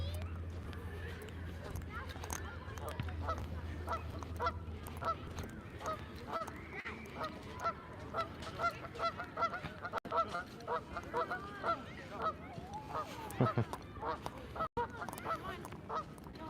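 A flock of geese honks repeatedly in a lively, overlapping chorus, close and continuous, with voices mingling underneath.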